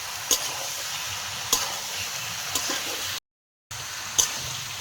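Mutton and potatoes are stir-fried together in a pan, with a soft, steady sizzle and an occasional sharp scrape of the spoon every second or so.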